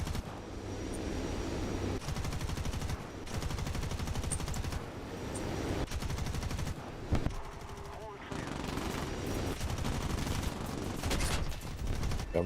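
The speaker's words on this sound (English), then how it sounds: "I'm actually shooting ground armored vehicle rounds into them, not shooting air rounds" Aircraft cannon in War Thunder, a dense, loud, almost continuous stream of gunfire hammering in long bursts with short breaks, voices talking under the barrage.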